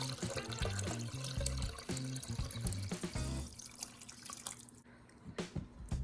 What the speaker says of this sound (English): Up next, I'm gonna add 4 cups of water.